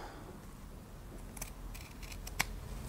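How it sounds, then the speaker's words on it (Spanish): Scissors snip through mesh fabric in a few quiet, crisp cuts, faint and close with a sharp final snip near the end, no talking. "sacamos alfileres y cortamos la tela justo"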